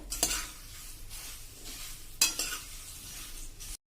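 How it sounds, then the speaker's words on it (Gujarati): Puffed rice (murmura) being stirred while dry-roasting in a pan over a low flame, a steady soft rustling scrape with two sharper stirring strokes, close and fairly quiet, no voices. "તો આ રીતે આપણે હલાવતા રહેવાનું છે અને ગેસની ફ્લેમ તો મિત્રો તમને ખ્યાલ જ હોય છે, એકદમ સ્લો રાખવાની છે"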